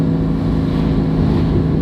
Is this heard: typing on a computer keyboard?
no